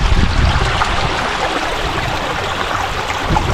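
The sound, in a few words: river water flowing into a crab trap area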